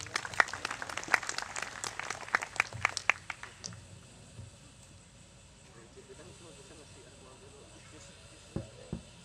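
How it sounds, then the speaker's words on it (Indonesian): An audience at a campus gathering bursts into a short round of clapping that quickly thins out and fades to a quiet room hum, with a couple of stray claps near the end. "Tepuk tangan untuk Poltekkip."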